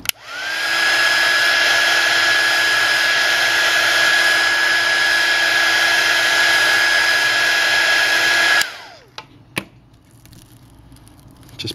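Heat gun blowing a steady, loud whoosh onto a Samsung Galaxy S5 screen to soften the adhesive during an LCD replacement, running continuously for about eight seconds before switching off into quieter handling noises.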